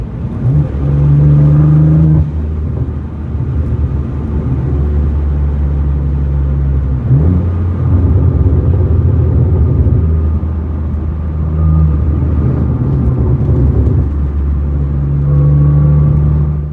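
A BMW F80 M3 on winding backroads gives a deep engine rumble that swells and eases as it accelerates and lifts off, heard steadily from inside the car with no talking.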